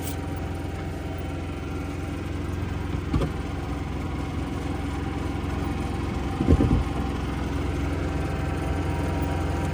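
A generator powering a food truck drones steadily at a constant pitch, close and even throughout, with a couple of faint clicks and knocks over the hum and no talking.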